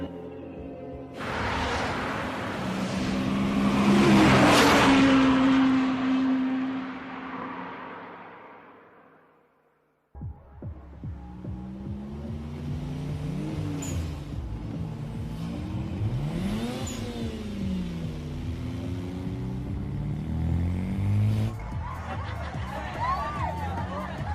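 Car engine in a French action film scene revs hard as the car speeds toward a bay, rising to a loud roaring peak, cutting out, then returning as shifting engine tones mixed with voices and crowd chatter.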